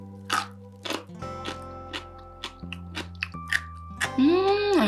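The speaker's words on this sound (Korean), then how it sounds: "너무 아삭거리고 맛있어요." Crisp, crunchy bites and chewing of Korean pickled radish (mu jangajji) in soy-based seasoning, cured a day at room temperature, come as a series of sharp close crunches at a steady pace, with a brief voice-like tone near the end.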